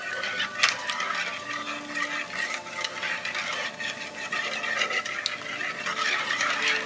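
Batter is mixed with a big whisk, giving continuous soft scraping and rattling clicks against the bowl at a brisk, uneven pace, close and moderately quiet.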